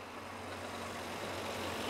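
Low, steady hum of a quiet engine on a 1912 Wilkinson 1000cc motorcycle running smoothly at low speed, a soft continuous drone with no talking.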